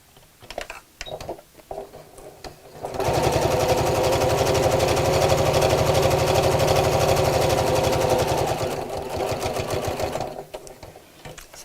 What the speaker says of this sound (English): I'm going to top stitch all the way around the strap to give that a nice outline